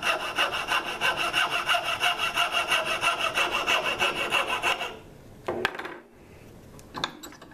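A hand saw cuts through wood held in a vise, about a dozen rhythmic back-and-forth rasping strokes close by, then the sawing stops and a few knocks and a clatter follow.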